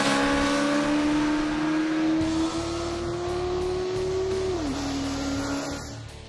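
An MV Agusta Brutale 910R naked motorcycle accelerates hard, its loud engine note climbing steadily in pitch for several seconds before a brief dip as it shifts gear, then pulling on as the sound eases slightly.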